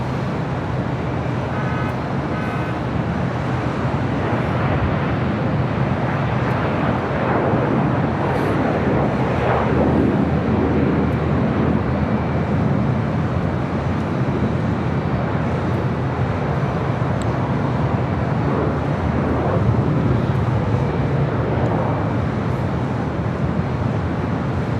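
Emirates airliner crossing a runway at LAX: a continuous low engine rumble and broadband roar, steady and moderately distant over its whole length, blended with airport and road traffic noise, with no speech.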